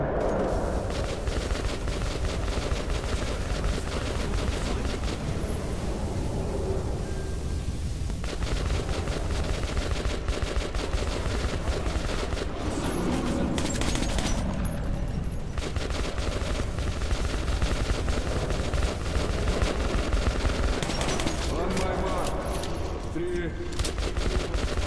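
Sustained gunfire in the video game Metro 2033 Redux, played on Ranger Hardcore mode, keeps going for the whole stretch as loud, dense bursts of automatic fire and rattling shots. A voice talks briefly under the shooting.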